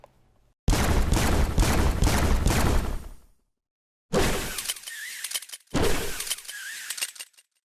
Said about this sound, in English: I especially love how these guns look and sound